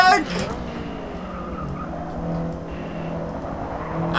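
Honda B16 VTEC engine in Forza 6 racing at Watkins Glen, revving high with a rising howl and tire skid noise, steady and close throughout.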